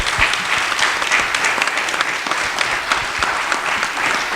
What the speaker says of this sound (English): So why don't we give them another round of applause?